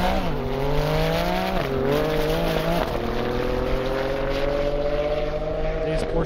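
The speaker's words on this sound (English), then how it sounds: "Beautiful Porsche Turbo." Porsche Turbo racing down an airstrip at a speed event, loud and close with rising engine pitch broken by quick upshifts, a continuous high-revving roar throughout.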